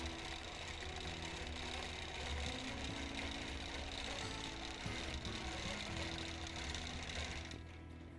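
Sewing machine running steadily during free motion quilting, a continuous fast mechanical whirring hum that is quiet and close, easing off near the end.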